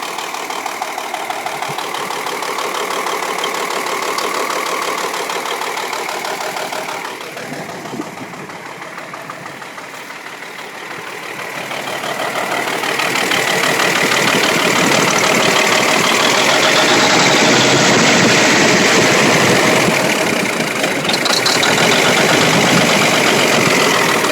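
A 1984 White Xpediter 2 truck engine, revived after sitting since 1998 and with a possible exhaust leak, idles with a steady low rumble, easing slightly quieter briefly before running louder and rougher.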